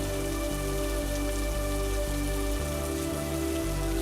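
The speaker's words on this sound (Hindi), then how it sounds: "ऊपर से बारिश भी होने लगी।" Steady rain pours down in a village setting, a dense, continuous hiss of drops striking surfaces that holds evenly throughout with no voices.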